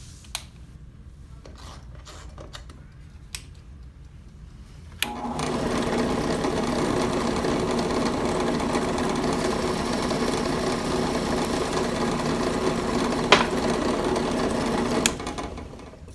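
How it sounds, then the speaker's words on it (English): A power drill bores a hole through a plastic name tag backed by a piece of wood, a steady loud whirring grind that starts abruptly after a few seconds of quiet clicks and runs on without a break. "Now I'm going to drill the hole"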